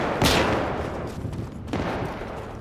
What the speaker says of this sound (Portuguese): Eu atirei pro meio do mato igual um louco